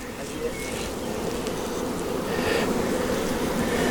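Honeybees swarm around an open hive being split, giving a dense, continuous buzzing drone that stays steady and close, with scattered faint bee passes and no talk.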